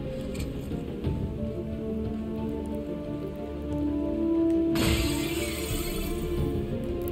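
Rain falls steadily on surfaces in the video game Stranger of Paradise Final Fantasy Origin, a dense, even hiss that swells louder near the midpoint and carries on with no voices.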